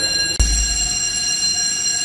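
A steady electronic fire alarm rings continuously in an apartment building during a fire drill, with one dull thump near the start; no one speaks.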